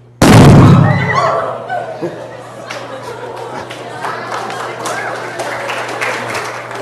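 About half a gram of acetylene explodes in a single sharp, loud bang, followed by a fading roar and then an audience applauding and cheering.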